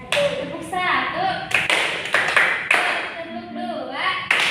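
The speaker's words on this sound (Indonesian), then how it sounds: "Tepuk 1." Children in a small classroom group play a clapping game, with sharp hand claps ringing out at uneven intervals among lively overlapping voices of kids and a teacher talking.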